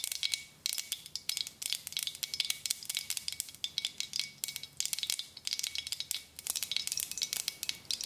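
Half a teaspoon of mustard seeds splutter in two tablespoons of hot oil in a pan while a sambar is being made, crackling and popping in rapid, irregular bursts that continue steadily, close and fairly loud, with no talking.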